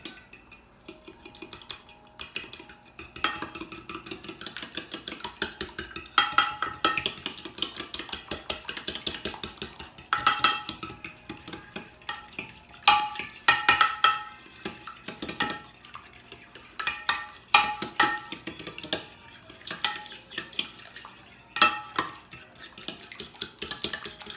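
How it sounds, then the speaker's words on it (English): French toast batter with egg yolk whisked in a bowl with a utensil, a busy run of rapid clinking and scraping strokes against the bowl, close and fairly loud, bursting in uneven flurries throughout with no talk. "now go on and mix that up"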